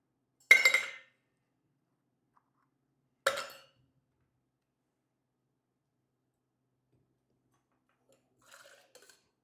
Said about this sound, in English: Once again, 2 ice cubes to the bigger tin.